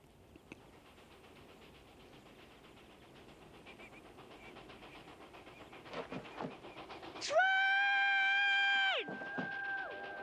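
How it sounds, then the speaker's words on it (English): In a scene from the film Stand By Me, a train approaches on a trestle: a low rumble builds with scattered clatter and faint voices, then a loud, sustained multi-note horn blast sounds for about a second and a half. "Train!"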